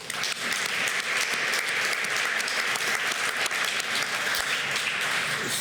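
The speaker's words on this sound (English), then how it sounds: "And please clap again." An audience claps at a substance use and addiction summit, giving sustained, dense applause from a large crowd that stays fairly loud and constant throughout.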